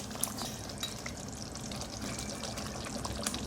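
Thick yogurt spooned and poured into a pot of mutton and potato curry, giving a soft wet plopping and gentle sizzle against steady low kitchen noise, with no talk.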